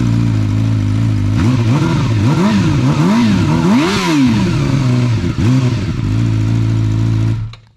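A Suzuki GSX-R 1000 motorcycle engine on its stock exhaust runs steadily close by, with a series of rising and falling throttle revs before it cuts off abruptly at the end, no voices present.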